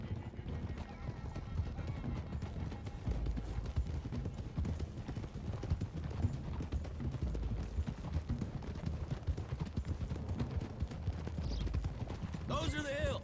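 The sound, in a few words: horses riding uphill in Red Dead Redemption 2 video game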